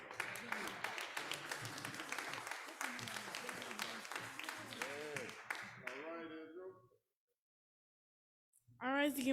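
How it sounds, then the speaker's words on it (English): An assembly audience claps and cheers loudly as a choir comes forward, sustained applause under a lively crowd that fades out before a brief burst of voices at the end. "Let's give them a cheer as they come forth."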